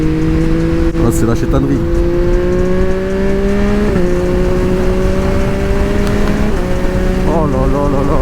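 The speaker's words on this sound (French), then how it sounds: "Cette moto n'envoie pas du tout et ne marche pas du tout pareil qu'un 3 cylindres classique que vous prenez chez Yamaha" A heavily modified Yamaha MT-09 SP three-cylinder motorcycle drones loudly and steadily at high revs, with the pitch stepping up through gear changes as it rides along in traffic, and someone speaks briefly over it.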